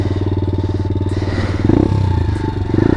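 A pit bike engine idles with a fast, loud, pulsing single-cylinder putter, then revs up in short bursts at about the midpoint and again near the end, heard up close.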